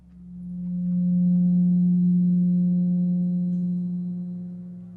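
A steady pure tone at about 180 Hz, tied to the 180 degrees of a triangle, swells in over the first second and then holds loud and unbroken for several seconds with no voices.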